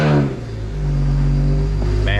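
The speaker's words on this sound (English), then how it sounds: "this exhaust cracks into life." BMW N54 engine fires up, a sharp exhaust crack followed by a rising rev that settles into a steady idle drone, close and fairly loud.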